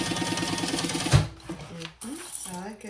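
A sewing machine stitches a cotton tote seam in a steady, rapid mechanical rhythm, close and clear, then stops as a person starts talking.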